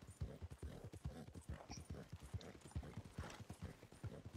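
A horse walks in the video game Red Dead Redemption 2, its hooves clip-clopping in a steady, close, even rhythm with faint tack rattle, no talk.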